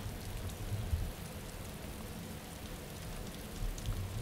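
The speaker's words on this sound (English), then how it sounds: "Constantly raining." Steady rain in the video game Arma 2 DayZ hisses softly and continuously, a quiet even patter with no other sounds.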